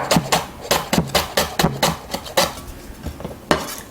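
A knife chops lemongrass into thin slices on a board, with a series of sharp, close knocks at an uneven, steady pace, each a quick tap followed by a short scrape, and no talking.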